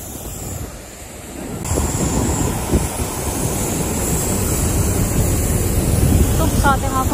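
An airplane just after landing, its engines roaring steadily at a Bali airport, a loud continuous rumble with wind buffeting the microphone throughout.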